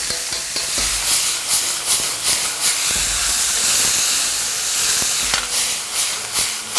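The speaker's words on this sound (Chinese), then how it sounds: "把这个辣椒和这个干花椒的香味煸出来之后，接下来下入豇豆" Yardlong beans hit a hot wok already holding dried red chilies and Sichuan peppercorns, giving a loud, steady sizzle and hiss of stir-frying with scraping stirs throughout and no talking.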